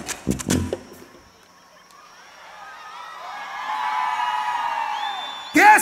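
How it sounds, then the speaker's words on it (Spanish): A crowd at a live music show lets out whoops and shouts, with a few sharp yells at the start, then a swelling mass of cheering voices that rises toward the end. "¡Que se oiga ese grito!"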